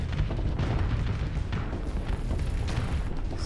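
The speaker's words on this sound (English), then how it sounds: "Shoot your cool missiles." Missiles launching and detonating in the space combat game Starsector, heard as a dense, continuous rumble of booms and bursts with steady loud low-end energy throughout, no voices.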